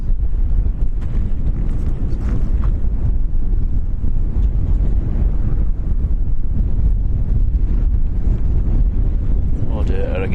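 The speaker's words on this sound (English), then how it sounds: "I was concerned with the wind" Wind buffets the microphone at Lanzarote Airport in the Canary Islands, a loud, continuous low rumble with gusty surges throughout.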